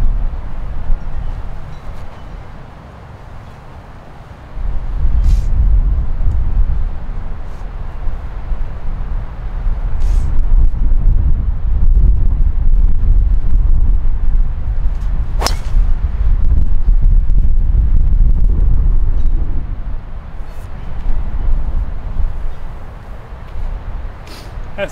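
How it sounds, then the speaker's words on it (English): Strong gusting wind buffets a golf course, a low roaring rumble that surges louder after the first few seconds and stays heavy, with brief faint voices underneath. "Wind than we know what to do with."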